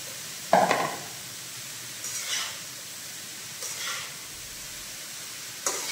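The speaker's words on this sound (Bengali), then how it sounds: "এবার দিয়ে দেবো আমাদের শুকনো করে রাখা বাসমতি চাল।" Dried basmati rice tossed into a pan with lightly fried carrots for fried rice, stirred in a few separate scraping bursts over a faint, quiet sizzle.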